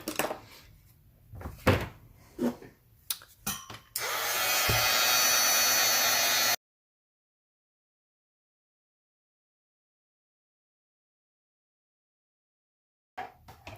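Heat gun blowing a steady broadband roar for about two and a half seconds while heat embossing a handmade infinity card, preceded by scattered clicks and handling knocks, then a long silence.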